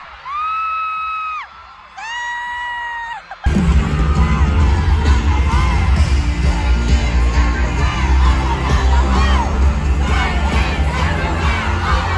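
A concert crowd awaiting the performers erupts into loud, sustained screaming and cheering after a short stretch of stage music, a close, dense roar of many shrill voices.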